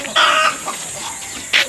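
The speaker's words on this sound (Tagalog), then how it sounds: "Init lang na yung mga manok ko na naman." Chickens cluck close by at a rural yard with rain-soaked ground, two short bursts of clucking separated by a quiet pause.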